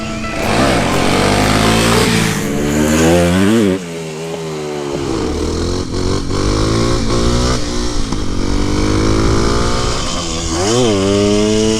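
A 2-stroke vintage MT 250 and a 4-stroke Kawasaki KLX 300 rev hard while doing wheelies, loud close engine roars rising and falling in pitch through repeated throttle blips and accelerations.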